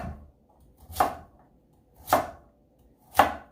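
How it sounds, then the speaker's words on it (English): A knife chops sweet potatoes on a cutting board with three sharp, evenly spaced strikes about a second apart, close and clear with no talking. "So I just cut them up like that, and then I go down the middle like this, and then I slice them."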